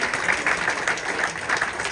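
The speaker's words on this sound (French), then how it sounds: "Applaudissements pour l'école de Saint-Paul de la Réunion." Applause for a Saint-Paul de la Réunion school at a best breakfast and brunch competition final, a steady broadband patter of many hands that stays even throughout.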